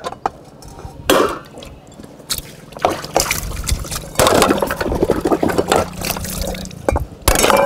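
Water is poured and splashed in bursts, with clattering vessels and sloshing between pours, close and fairly loud.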